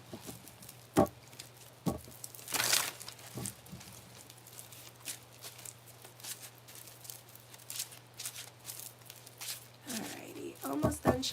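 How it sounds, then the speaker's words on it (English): Tarot cards are shuffled by hand in a quiet room, making soft, faint, irregular riffling and patter with a few sharper bursts, alone and without talk. "Almost done shuffling."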